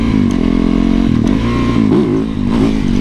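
A motorcycle engine revs loud and close while the bike is being ridden, a steady throaty drone with wavering pitch as the throttle rises and eases.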